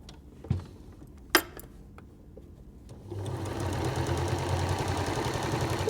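A sewing machine starts up and stitches patchwork quilt pieces into a central flower block, running as a steady, close mechanical whir after a few quiet handling knocks.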